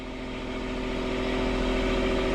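Car engine running steadily after its snapped engine mounts were replaced, a smooth continuous hum with a low rumble that grows slightly louder across the stretch, no voices.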